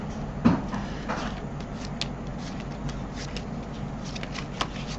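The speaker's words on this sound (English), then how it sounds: "Give it a real quick shuffle, just like so." Playing cards are shuffled close by for a card trick, a soft riffling burst followed by steady papery rustling and light ticks, fairly quiet, with no talking.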